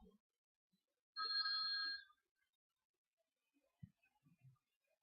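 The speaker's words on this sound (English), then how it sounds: "Bells are ringing." A single electronic bell ring, nearly a second long and moderately loud, in an otherwise quiet room, followed by a few soft knocks and small handling sounds.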